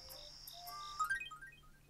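A cartoonish electronic phone ringtone from the video game Tomodachi Life, a bright chirping melody of repeated beeping notes that rises into a quick descending flourish, clear and alone.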